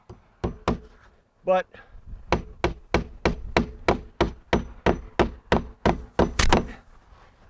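Hand-hammering nails into Azek trim produces a steady run of about fifteen sharp, close knocks in a regular rhythm, with a brief spoken word early on.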